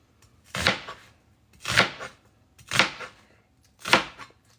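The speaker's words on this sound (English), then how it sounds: "coarsely chopping some onion" A knife coarsely chops onion on a board for a Russian stew, four evenly spaced crisp strikes about a second apart, close and clear with no talk.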